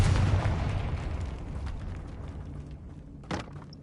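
A Confringo blasting spell is cast in a Harry Potter video game inside a tomb, giving a loud burst at the start that rumbles and fades, then a second sharp crack near the end.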